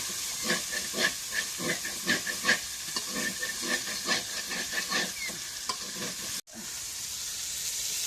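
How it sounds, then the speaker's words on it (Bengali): Meat frying in a hot pan, with a steady sizzle and hiss and regular scraping strokes as it is stirred, close and fairly loud, then a brief cut before the sizzling carries on alone. "এখন মাংসটা ভাজা হচ্ছে"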